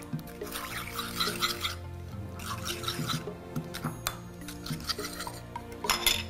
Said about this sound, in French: Donc on va bien mélanger les ingrédients de la sauce.